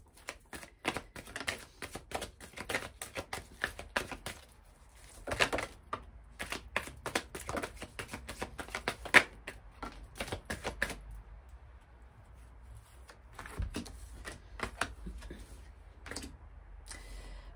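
A deck of oracle cards being shuffled, rapid crisp flicking and riffling in uneven bursts with brief pauses, close and fairly quiet.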